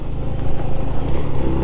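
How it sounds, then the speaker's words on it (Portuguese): A motorcycle rides close alongside a Honda Biz 100 scooter on patched asphalt, its engine droning loud and steady at close range with a slight surge midway, without any voices. "parecia que tinha uma moto grudada em mim"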